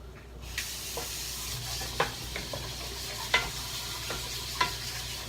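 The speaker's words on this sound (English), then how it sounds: "to saute the onions, the parsley, and the garlic" Onions, parsley and garlic sauté in broth in a pan for a plant-based dish. A soft steady sizzle runs throughout, broken by several sharp clicks and scrapes of a utensil stirring against the pan.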